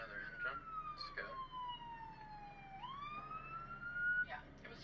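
Fire engine siren during the Maui fires, a loud wail sweeping down and back up, passing close by with road and engine noise underneath.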